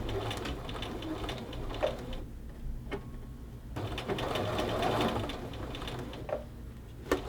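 A sewing machine stitches a men's shirt cuff onto the sleeve, whirring in bursts of rapid needle hum with short pauses and clicks between runs, close and without talk.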